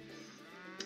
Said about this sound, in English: we have a lot of cattle, a lot of cow roaming around